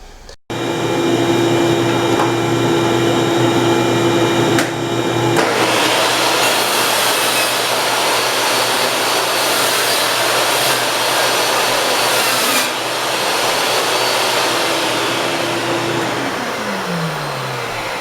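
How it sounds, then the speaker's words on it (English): A 10-inch table saw fitted with a 7-inch blade starts abruptly and runs at a loud, steady whine, with a cut or load change midway and a brief winding-down pitch near the end. "set up a 7-inch blade on 10-inch table saw"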